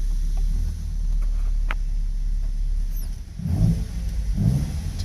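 Lancia Fulvia engine with dual carburetors revving, a steady throaty idle rising into two louder revs near the end, close by with no talking.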